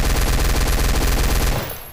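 Rapid, dense gunfire rattles out in a loud unbroken burst as a player fires guns at demons in the game High Noon Drifter, then cuts off and trails away at the end.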